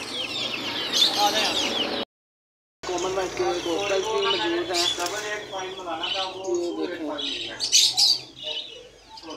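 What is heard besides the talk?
female turkeys calling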